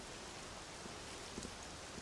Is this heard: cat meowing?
no